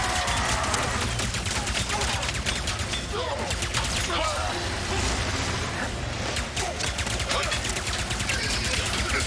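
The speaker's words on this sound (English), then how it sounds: "Oh, that's a lot of big guns." Heavy weapons fire in the Ratchet and Clank: Rift Apart video game, a dense, continuous barrage of rapid bursts and crashes that stays loud throughout, with a voice speaking over it.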